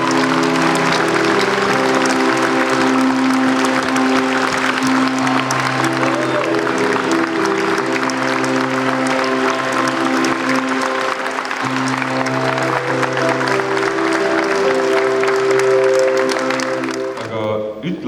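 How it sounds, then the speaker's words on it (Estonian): A graduation ceremony audience applauds for a graduating student, loud, continuous clapping across the whole stretch with music or voices running underneath, stopping abruptly at the end. "palun tormilise aplausi saatel Janar Voorel"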